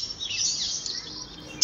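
A Brahminy starling on a balcony gives a thin, high call that runs continuously for over a second, followed by a short, sharper burst at the end.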